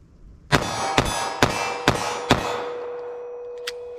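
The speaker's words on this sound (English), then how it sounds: "let me fire them a little bit quicker, get a sight picture and pop them off" A .357 Magnum or 9mm short-barrel pistol fires five quick shots at targets, evenly spaced sharp cracks with a ringing metallic tail, then a couple of faint distant pops.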